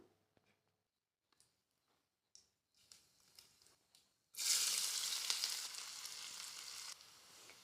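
After a few quiet clinks and scrapes, soybean chunks hit hot oil in a pan and break into a loud, steady sizzle of frying that continues to the end.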